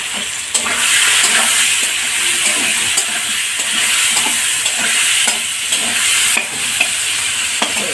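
Sliced tomatoes fry with purple cabbage in a pan, making a loud, continuous close sizzle with steady stirring scrapes and brief clinks throughout.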